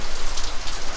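Rain falls steadily outside a house whose roof is leaking, a dense, close hiss of drops on surfaces with no gaps, heard alone.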